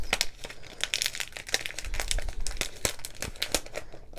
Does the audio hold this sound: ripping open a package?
yes